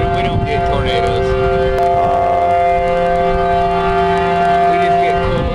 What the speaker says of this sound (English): when the tornado sirens go off?